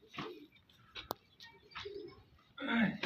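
Punjabi pigeons kept for sale in Haryana give soft, intermittent coos and calls, with several short bursts separated by quiet gaps and a fuller, louder call at the end.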